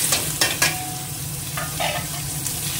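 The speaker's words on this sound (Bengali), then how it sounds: "পেঁয়াজ কুচোনাটা দিয়ে দিলাম, একটু ভেজে নিই" Chopped onion frying in hot oil in a kadai, a continuous sizzle with a few scraping stirs early on, close and steady with no talk.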